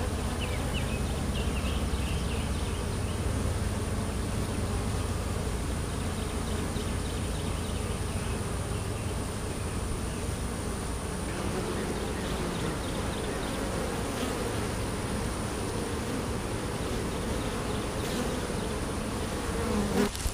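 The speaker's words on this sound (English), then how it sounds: "Busy bees" Dense, continuous buzzing of many honey bees around a hive, close and steady throughout with no voices.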